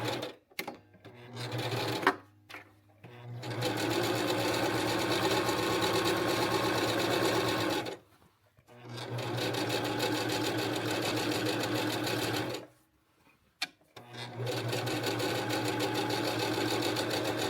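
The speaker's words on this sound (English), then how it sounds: "Now we're going to sew 1/4 inch away from this seam from notch to notch" A sewing machine stitches a seam a quarter inch from an earlier one, running in three loud, close bursts of rapid mechanical whirring separated by brief silent pauses.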